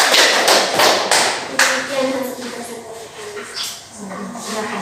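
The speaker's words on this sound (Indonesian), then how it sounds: "Silakan kita tepuk tangan mau mengucapkan." Classroom students applauding a group presentation with a dense burst of clapping that fades out, while a voice speaks underneath.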